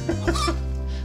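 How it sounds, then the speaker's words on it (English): Game chicken from Party Panic giving a couple of short clucks over a steady low game hum, fairly close and clear, no talk. "Uh-oh, I heard a chicken."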